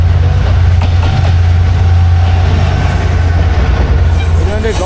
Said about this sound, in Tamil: இன்னொரு ட்ரெயின்